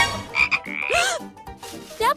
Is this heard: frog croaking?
yes